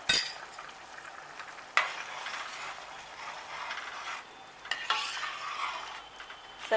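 Potato curry with yogurt stirred as it simmers in a pot, a steady soft bubbling sizzle broken by a few sharper scraping strokes of a spoon, close and moderately quiet with no talking.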